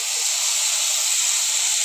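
Tomatoes sauté in a pan for an eggplant chutney, giving off a loud, even, unbroken sizzling hiss from start to finish, with no voices over it.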